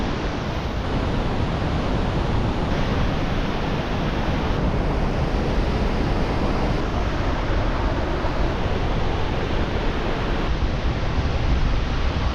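Vernal Falls waterfall on the Mist Trail in Yosemite, a loud, unbroken roar of rushing water close by, with wind buffeting the microphone and no voices.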